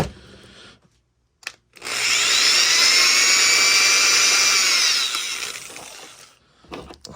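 A power drill bores a hole in a part for a prop shoulder lamp from Aliens, one steady high whine lasting several seconds that fades at the end, framed by quiet moments.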